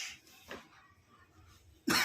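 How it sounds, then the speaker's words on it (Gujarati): Coughing in a comedic doctor scene, heard as a few short, faint bursts separated by near-silence, with a sharper, louder cough or sneeze-like burst at the very end. "ઉધરસ છે. ઉધરસ ખાઓ."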